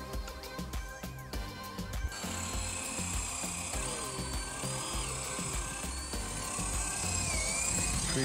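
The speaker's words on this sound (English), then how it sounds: "Drilling the holes for the baseboards." A power drill bores holes for the baseboards of a 16-foot DIY wood bridge, a sustained whining drone with scraping and cutting noise through the wood, close and fairly steady.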